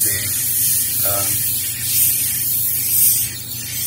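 An airbrush sprays paint with a steady hissing that runs continuously with slight swells in intensity, over a low background hum.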